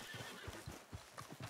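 Horse in Red Dead Redemption II whinnies while its hooves clip-clop in a quick uneven rhythm, close and moderately loud.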